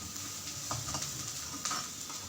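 Onions and green chillies sizzle steadily in a hot pan, a continuous close frying hiss with a few soft stirring scrapes and no voices.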